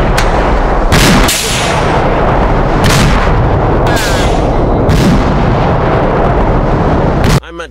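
Repeated mortar blasts and explosions in the military shooter Arma 3, a heavy booming barrage with loud thuds roughly every second, while voices talk over the rumble.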